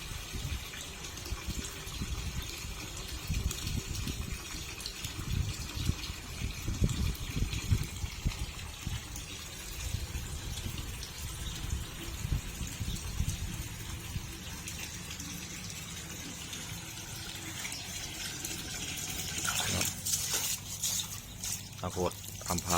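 Water running steadily into an outdoor fish tank in front of a house, a continuous gushing wash with a voice talking over it at times, changing near the end with a few sharper splashes.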